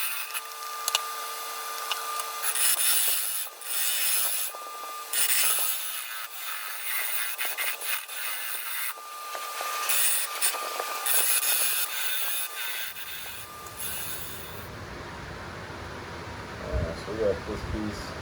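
Wood bowl being turned on a lathe with a carbide tool, giving a rough, scraping rasp in uneven bursts with a motor hum behind it, while a voice talks over parts of it.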